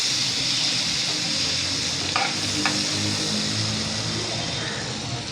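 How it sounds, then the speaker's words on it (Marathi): Butter melting and sizzling in a pan over a high flame while making masala pav, a steady broadband frying hiss throughout with a couple of brief stirring scrapes, no talking. "बटर व्यवस्थित आपल्याला वितळून घ्यायचं आहे।"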